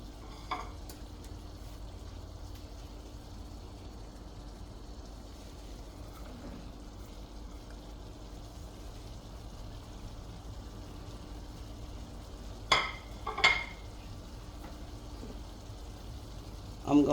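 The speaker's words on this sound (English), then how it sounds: "I'm going to add my onions and my garlic" Onions and garlic frying in a pan for a layered taco bake give a faint, steady sizzle, broken near the end by a few short scraping stirs.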